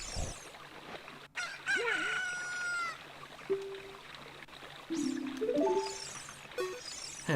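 A grown chicken in The Legend of Zelda: Ocarina of Time crows and clucks, with several short calls and a rising crow, set against a soft steady background murmur and no talk.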